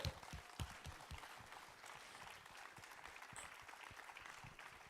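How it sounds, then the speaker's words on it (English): Quiet, distant-sounding audience applause follows a conference panel at a university career event, a steady patter of clapping hands from the hall with no speech on top. "Let's give one big round of applause for our panel."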